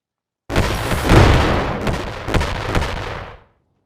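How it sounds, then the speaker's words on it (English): Impact grenades detonating in the VR game Animal Company, a loud sudden burst of blasts that rumble on for about three seconds, with a second wave of booms before fading to silence. "they'll probably explode immediately because they're impact grenades"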